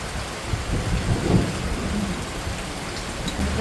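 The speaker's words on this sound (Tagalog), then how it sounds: "Kasama pang kulog." Steady heavy rain hisses close by while a low rumble of thunder swells briefly near the middle, with no voices.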